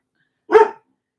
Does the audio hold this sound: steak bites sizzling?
no